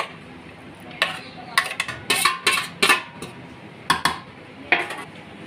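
Leftover cooked vegetables are worked into dough in a metal pot, giving a series of sharp scraping clinks and knocks in irregular bursts, close by with quiet pauses between.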